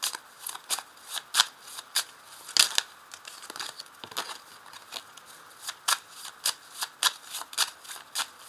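A deck of 32 playing cards is shuffled over and over, with crisp riffling bursts and light papery flicks in an irregular rhythm, close by and alone.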